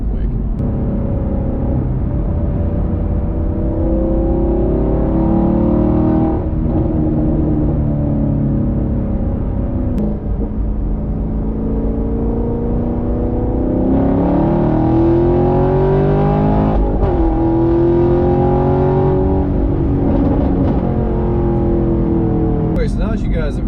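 A 2019 Chevrolet Camaro 1LE sports car engine revs repeatedly over a steady loud idle, pitch sweeping up and falling back in several pulls, close by.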